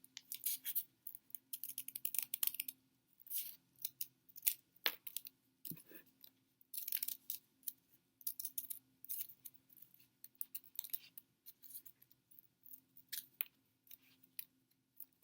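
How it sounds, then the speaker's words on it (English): Scissors snip through folded paper to make a circular snowflake, giving quiet, close, irregular bursts of crisp cutting with short pauses between runs and one sharp tap partway through. "Maybe you want to cut some rectangles out."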